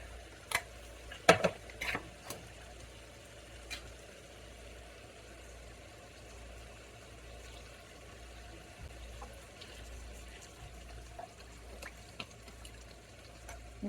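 Beef gravy thinned with a little water reduces in a pan on a home stove, a low steady simmer with a few sharp clicks and clinks of stirring early on, heard alone without talk.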